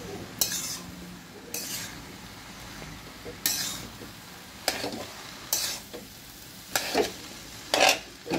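Prawn chowmein being tossed and stirred in a large wok, with repeated sharp metallic scrapes and clanks about once a second over a faint sizzle, close by and with no talking.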